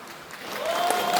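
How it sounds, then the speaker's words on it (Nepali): An audience applauds at a political speech, a short burst of clapping that swells and stays dense, heard fairly near with a faint voice underneath. "यो तालीहरू पनि अलि धेरै नबजाउँ"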